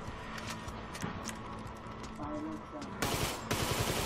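Rapid machine gun bursts in the GTA Online video game, repeated clattering volleys that grow louder and denser toward the end, with voices talking over the gunfire.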